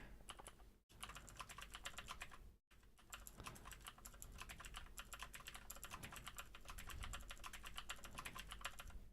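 Fast, steady clicking of a computer keyboard as someone types code, dense and close, with two brief pauses near the start and then unbroken keystrokes to the end.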